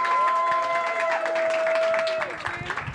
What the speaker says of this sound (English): Let's give her a huge round of applause as well.